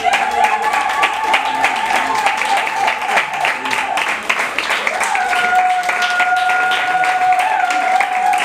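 Applause rises from an audience as a woman is called forward at a Congolese family celebration, steady and loud throughout, with sustained tonal music or voices running over the clapping.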